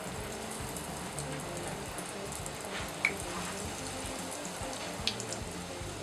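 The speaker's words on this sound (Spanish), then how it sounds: "empezaremos a freírlo con mucho cuidadito, uno a uno, nuestros aritos de cebolla" Onion rings frying in hot oil, a steady soft sizzle and crackle throughout with a couple of brief sharp pops.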